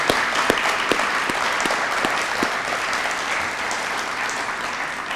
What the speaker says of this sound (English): can we just give an applause to all of our public safety officials?